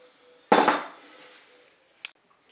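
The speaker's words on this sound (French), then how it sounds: "alors, je mets les pâtes dans la cuve du cookéo" Dry pasta dropped into the metal bowl of a Cookeo multicooker, one loud clattering pour that rattles and fades, then a single small clink, no talk.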